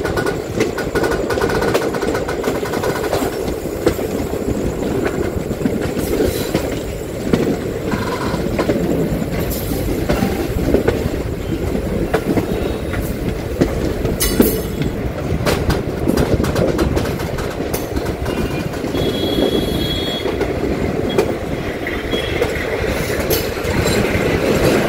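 MMTS suburban train passing near the tracks at Charlapalli, a steady loud rumble with rhythmic clickety-clack of wheels over rail joints running continuously throughout, with faint bird calls in the background.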